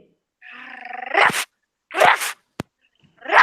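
A person imitates a dog with a whining, drawn-out vocal howl that breaks into barking yelps, followed by a short click and another bark-like burst, close and fairly loud against silence.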